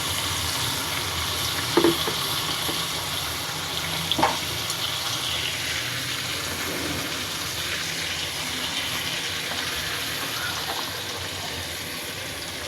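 Ginger, garlic and onion fry in a pan with a continuous hissing sizzle and a couple of brief clinks and stirs, close by, without talk.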